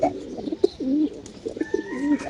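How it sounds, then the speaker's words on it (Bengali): Silver gola pigeons coo close by in a repeated soft rolling pattern, several throaty calls following one another amid quiet background chatter of other birds. "এই যে সিলভার গররা কবুতর"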